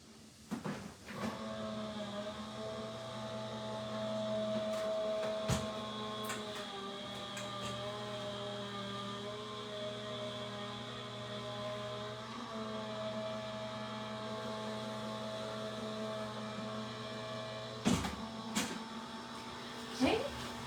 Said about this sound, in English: As I run these through the die cutting machine.